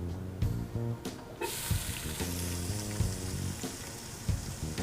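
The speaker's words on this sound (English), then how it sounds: "I'm going to add my oil to a medium-hot pan and add the onions and carrot." Onions and carrot hitting oil in a medium-hot pan, a bright hiss that rises as they go in and settles into a steady sizzle under a soft background tone.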